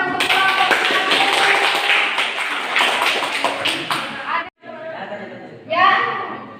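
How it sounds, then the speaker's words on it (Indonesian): A physics class claps for a student group after their fermenter presentation, a dense burst of many hands that stops abruptly, then resumes briefly with scattered claps and voices chattering nearby. "Terima kasih, tepuk tangan untuk kelompok."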